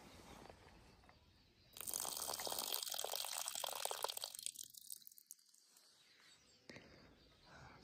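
Water decanted from a beaker holding black sand being checked for gold, a faint trickle rising to a steady splashing pour for several seconds, then tapering to quiet drips, with no voices.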